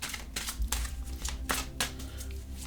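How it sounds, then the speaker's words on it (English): A deck of tarot cards being shuffled by hand, a series of quick riffling bursts with soft slaps between them, close and moderately quiet, with no talking. "Let me shuffle these up."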